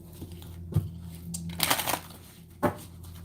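A deck of tarot cards being shuffled, with soft riffling and a few crisp slaps and rustles close by at low volume, with faint room noise between.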